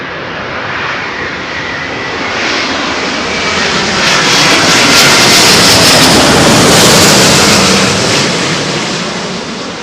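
A Finnair airliner landing at London Heathrow in blustery weather, its engine roar swelling steadily to a loud peak mid-pass and then easing off, with wind noise and no talk.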